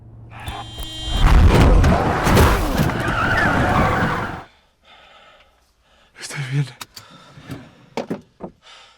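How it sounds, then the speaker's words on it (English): A car skids and crashes after a deer crosses the road, a loud dense burst of impact and screeching that cuts off abruptly, followed by scattered clunks and short sounds in the aftermath. "a deer suddenly crossed the road, causing Adrian's car to crash into another vehicle"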